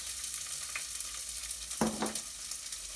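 Onions hit hot olive oil in a pot, a faint steady sizzle with a few stirring scrapes and soft clinks, no talking.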